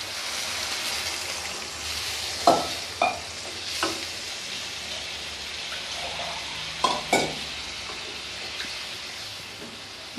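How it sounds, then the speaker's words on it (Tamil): Chicken gravy sizzling and frying in a pan as water is added and stirred in, with soft spoon scrapes and a few sharp clinks against the pot over a continuous bubbling hiss. "இப்போ இதில் நம்ம தண்ணி சேர்த்திடலாம்."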